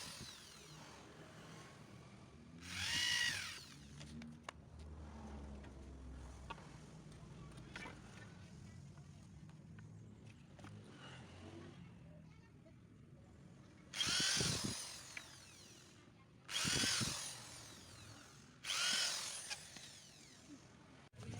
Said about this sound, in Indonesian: Bor semua ujung kayu yang sudah kita koak.